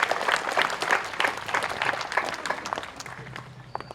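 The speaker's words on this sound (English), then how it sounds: "So a big hand of applause again." An audience at an Australia Day event in Lithgow claps for singers after a song, a short round of applause that is lively at first and thins out toward the end.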